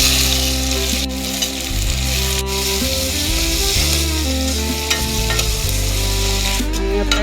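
Tomatoes going into onions frying in a pan, a loud continuous sizzle carrying a droning, wavering hum, with sharp clatters as the ingredients drop in and get stirred.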